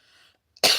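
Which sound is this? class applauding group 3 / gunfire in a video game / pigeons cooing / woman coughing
woman coughing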